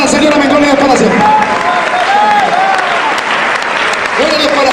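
A church congregation claps in praise to the Lord during a sermon, loud dense applause filling the room throughout, with voices and shouts rising over it.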